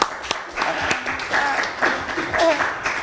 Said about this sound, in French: il faut on l'applaudit Martina.